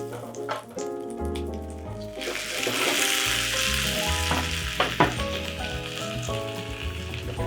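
Potato cake pan-frying in butter, a steady bright sizzle running throughout beneath background music, with no one talking.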